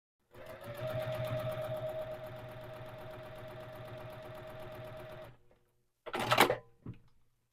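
A sewing machine stitches a scant seam corner to corner across fabric pieces, a steady whirring run for about five seconds, then stops, followed by a short sharp clack.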